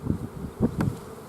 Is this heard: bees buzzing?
yes